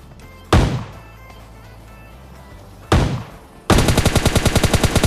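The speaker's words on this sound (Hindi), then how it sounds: "जो आप लोगों को शॉटगन का आवाज़ सुनाई दे रहा है ना, असल में ये हैकर ही चला होता है" Shotgun fire in the mobile battle-royale game PUBG Lite: two loud, separate blasts with a long gap between them, followed by a rapid, even burst of repeated gunfire that runs to the end.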